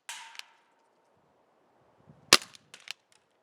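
An Elite Force H8R CO2 revolver fires BBs at a fence, one sharp report opening the moment. After a long silence a loud crack follows and then a few quicker metallic clacks.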